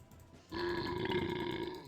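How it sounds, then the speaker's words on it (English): A World of Warcraft character lets out a single long, loud burp after a short pause, sustained and croaky, with nothing else around it. "So we got some burping."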